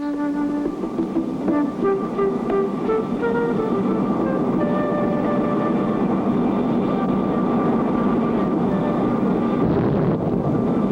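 A backyard-built aircraft in flight during a test flight in a Clutch Cargo cartoon, a continuous loud droning engine hum with shifting whining tones, steady throughout with no talking.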